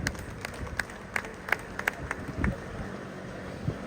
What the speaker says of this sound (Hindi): एक बार मैं चाहूंगा आप सब उनके लिए भी जोरदार ताली बजाएं।